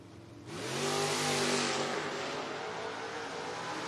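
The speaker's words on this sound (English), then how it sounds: "McCluskey, the 78 Firebird" A 1978 Pontiac Firebird drag car launching at a footbrake drag race, its engine bursting from a low idle into a loud sustained roar with the pitch climbing quickly, then holding steady at full throttle.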